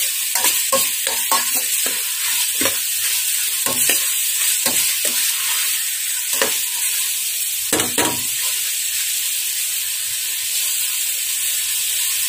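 Beef pares meat being stirred in a hot pan, with a steady loud sizzle and hiss broken by repeated scraping clatters of the spoon against the pan.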